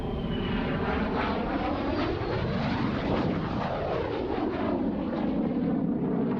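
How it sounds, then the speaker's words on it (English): An RAF Hawk T1 jet trainer flies past, its engine roar swelling as it approaches, peaking loudly overhead, then sweeping away with a falling pitch, steady and unbroken throughout. "the Hawk T1 is the first jet aircraft that a student pilot will fly"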